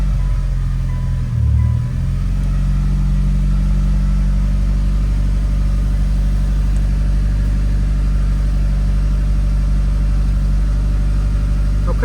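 Vehicle engine held running in first gear, a loud steady low drone close by with one brief rev swell early on, then constant idling rumble.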